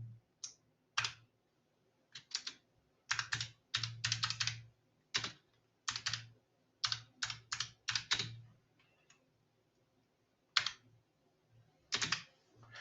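Typing on a computer keyboard while working in an Excel spreadsheet: close, crisp bursts of key clicks in irregular clusters separated by short pauses, heard alone without speech.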